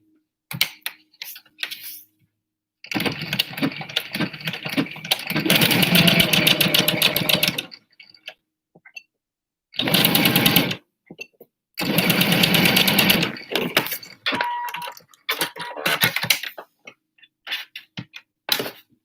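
A regular domestic sewing machine stitches the darts of a batwing-style fabric face mask, a steady motor whir with rapid needle ticking, running in several bursts of a few seconds each, separated by pauses and small handling clicks.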